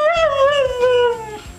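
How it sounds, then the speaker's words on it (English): A husky dog gives a short, wavering howl-like vocalization, a single tonal cry that slides downward over under two seconds, close and clear. "that's a dog trying her best to say I love you back to her"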